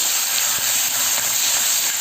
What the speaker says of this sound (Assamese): আদা নহৰু পেষ্টখিনি কেঁচা গোন্ধটো নোযোৱালৈকে ভাজি ল'ম